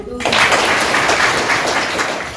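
Audience of women at a rural livelihood group meeting breaking into applause, a sudden onset of steady, dense clapping that continues evenly to the end.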